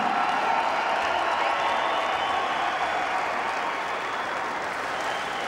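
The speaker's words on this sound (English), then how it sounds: "please, a huge round of applause" Sustained, loud applause from a boxing crowd after a welterweight championship fight, a dense, steady roar of clapping that holds throughout with a slight fade toward the end.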